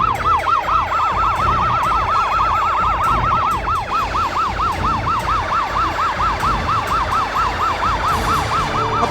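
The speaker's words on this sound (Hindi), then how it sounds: "घबराओ मत बेटा, अभी एम्बुलेंस आ जाएगी।" An ambulance siren in a dramatic crime-series scene, a rapid continuous wailing yelp cycling steadily and loudly throughout over a low rumbling background, with no talking.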